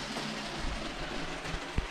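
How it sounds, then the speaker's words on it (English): A Lego toy train runs around its track with a steady rattling rumble, close and continuous, and one brief sharp knock near the end. "So we have the train going around"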